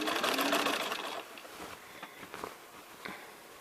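Sewing machine slowly stitching a curved seam, a close, loud whirring run of rapid stitches at the start that fades into quieter scattered clicks and handling taps, with no talking.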